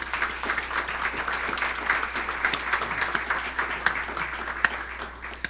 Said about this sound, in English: so let's give Kathy a round of applause.